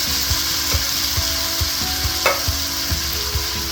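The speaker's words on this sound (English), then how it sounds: "stir that all together, get that all mixed" Vegetarian chili with canned tomatoes and their juice stirred in a pot, with regular scraping strokes of a spoon over a constant hiss and low hum, close by.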